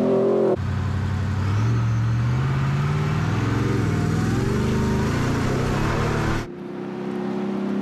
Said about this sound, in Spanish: el, ruido que emite la camioneta al exterior